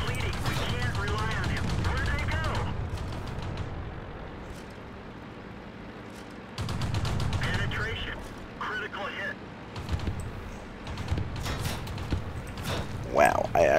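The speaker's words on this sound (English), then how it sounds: "everybody's coming up here and shooting at me" Bursts of machine gun fire and impacts hit a T7 Combat Car in a tank video game, crackling in two stretches with a quieter gap between them, while someone talks over the action.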